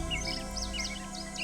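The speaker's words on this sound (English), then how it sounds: "There's another bird right here." Short, bright bird chirps repeat several times over a steady low ambient hum in the adventure game Nancy Drew: Ghost Dogs of Moon Lake, fairly quiet and unaccompanied by speech.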